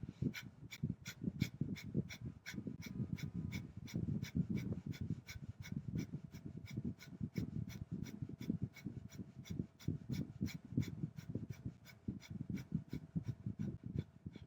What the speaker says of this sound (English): 3 minutes, breath of fire.